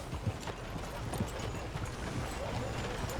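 Horse hooves clip-clopping at a steady walking pace in the Red Dead Redemption 2 video game, a regular rhythm of muffled thuds beneath a continuous bed of ambient game sound.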